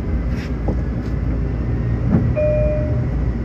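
The Flying Yankee train pulls out of Jamaica station with a steady, loud rumble of wheels and running gear, a brief high tone sounding near the end, with no talk.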